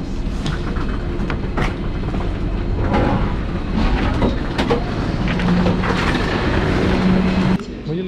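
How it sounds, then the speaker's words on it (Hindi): A metro train at a Johannesburg station rumbles steadily with rail clatter and clicks throughout, loud and close, with a brief tonal squeal near the end. "और यहाँ से ट्रेन बदलनी है"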